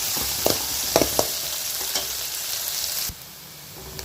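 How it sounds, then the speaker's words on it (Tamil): Onion, ginger and garlic sautéing in a hot pan, a steady bright sizzle broken by a few clinks and scrapes of the stirring spoon, then the frying quiets abruptly near the end. "இஞ்சி பூண்டு வெங்காயம் எல்லாமே நல்லா வதங்கிட்டு தான் நல்லாயிருக்கும்"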